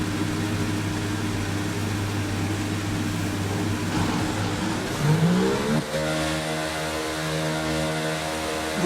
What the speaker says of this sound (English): Okay, engines fired up, we're set.